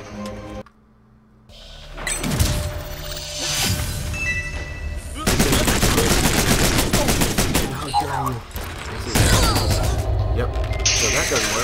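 Gunfire in the side-scrolling shooter Rise & Shine, with loud volleys of rapid shots, crashes and mechanical clatter in long bursts after a brief quiet start, and a voice talking over part of it.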